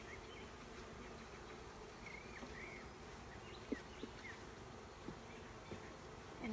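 Bees buzz around a hive nuc, a faint, continuous drone with a few individual insects whining closer by and occasional light knocks.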